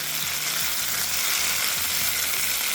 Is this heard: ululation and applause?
no